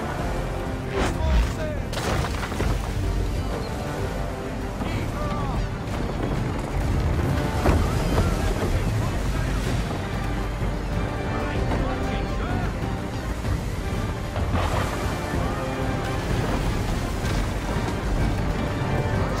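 A sailing ship ploughs through the sea in the video game Assassin's Creed III, with a dense, loud roar of wind and water and occasional booms, while voices speak over it.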